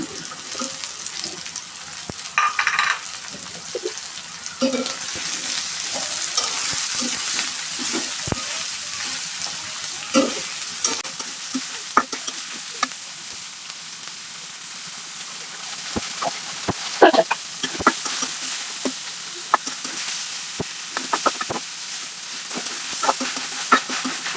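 Onion and chopped kuchal fish sizzle steadily in a hot pan, a continuous frying hiss with scattered spatters and soft scraping stirs, no talk.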